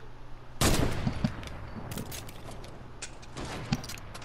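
Video game gunfire with shots striking a wall, a loud burst of rapid shots followed by scattered impacts and another short volley.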